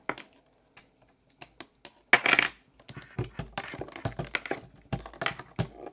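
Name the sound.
clicky patch cable noise from a modular synth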